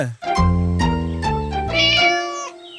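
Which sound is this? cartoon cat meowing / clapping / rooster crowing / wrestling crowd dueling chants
cartoon cat meowing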